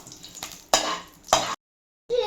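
Cumin seeds fry in oil in a pan for chicken gravy, crackling and sizzling in loud bursts, with a short silent gap before the frying resumes.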